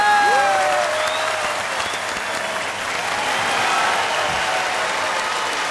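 A live audience breaks into loud, dense applause welcoming a Turkish pop singer on stage, a thick sustained wash of clapping with faint whistles ringing through it.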